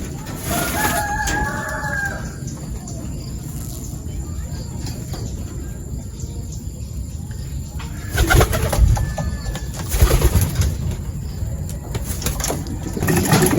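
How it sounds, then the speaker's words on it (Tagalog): Pigeons back from training feed and coo in their loft, with soft cooing and pecking under a constant hum, a rooster crowing in the background and a few louder rustling bursts later. "maganang kumain mga kalapatids"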